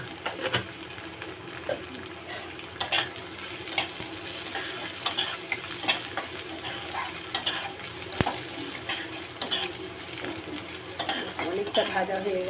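Whole cumin and black cumin seeds fry with spices in a pan, a continuous close sizzle mixed with frequent stirring scrapes and light utensil clinks, no voices.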